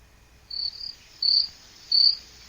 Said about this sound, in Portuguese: Tenho aqui um arquivo do grilo.